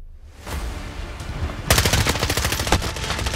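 Gunfire in a shooter video game, a burst of rapid automatic fire that rattles on continuously and loudly after a short rumbling lead-in.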